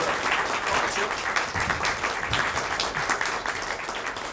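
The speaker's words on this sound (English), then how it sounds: "How about a nice round of applause for it?" An audience at a City Club of Chicago luncheon gives steady, dense applause at moderate distance, continuous throughout without a break.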